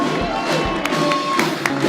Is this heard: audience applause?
yes